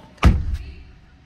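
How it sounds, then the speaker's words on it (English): A 2014 Ford Lariat door shuts with a single loud, close, solid thump and a short fading rattle. "What I'm going to do is I'm going to close the door."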